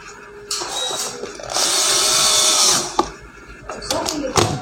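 A power tool drives bolts into a 12V 20Ah LiFePO4 battery pack, whirring in bursts with a sustained high whine in the middle, sharp clicks between runs, and brief handling noises.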